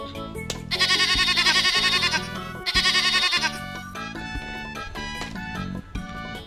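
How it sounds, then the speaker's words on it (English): A toy sheep sounds a loud electronic bleat, two wavering bursts over a steady tonal backing, with plastic animal toys being handled in a tub of water; no one speaks. "Sheep."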